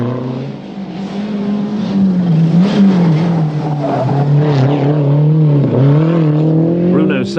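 Lancia Delta rally car at full power on a 1989 British Open Rally stage, its engine roaring loud and close as revs rise and fall through gear changes, with a voice talking over the noise.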